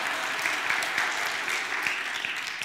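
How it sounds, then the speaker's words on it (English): Audience applause at a leadership training keynote, a dense, steady patter of many hands clapping at moderate volume for a few seconds, with no speech over it. "Linda, let's give Linda a round of applause."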